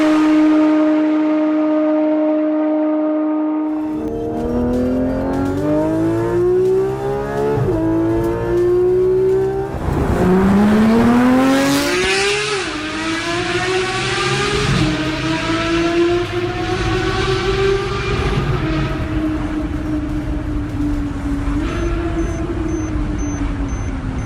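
A naturally aspirated Porsche GT3 RS engine rises through repeated high revs toward its 8,500 RPM redline after a steady idle, each climb ending in a short dip before the next sweep, loud, close and with no one talking.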